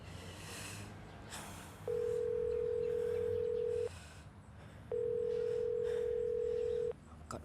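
A telephone ringback tone sounds in two long, steady beeps of about two seconds each, separated by a pause, over faint room noise.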